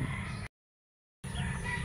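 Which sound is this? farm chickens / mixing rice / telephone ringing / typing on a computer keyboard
farm chickens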